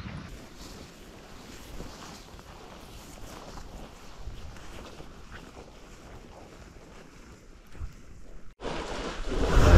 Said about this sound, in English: it is uh, windy